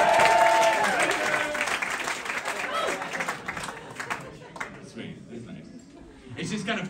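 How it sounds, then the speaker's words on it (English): Comedy club audience clapping for an audience member, a crowd of hands with some chuckles, a comedian's voice over the top as the applause gradually thins. "Round of applause for Texas for knowing places."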